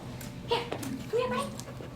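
A dog in an obedience training session gives short, high whimpers and soft yips, several brief squeaky cries in quick succession under faint background noise.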